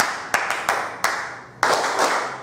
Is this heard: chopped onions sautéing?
no